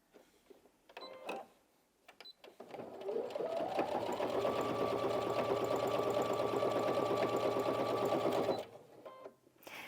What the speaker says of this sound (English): So we're going through 8 layers now.